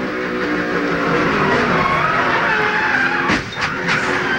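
A NASCAR race car crashes as its right front tire disintegrates, a loud continuous roar of engine and scraping tire noise with a sharp burst of impact near the end.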